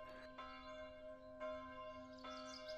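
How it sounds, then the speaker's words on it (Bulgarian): Church bells in a holy city ring solemnly, each fresh strike landing about once a second over a sustained, humming resonance, loud and steady with no voices. "Всички църковни камбани в свещения град бият тържествено."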